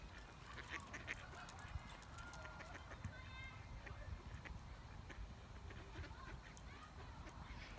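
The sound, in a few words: ducks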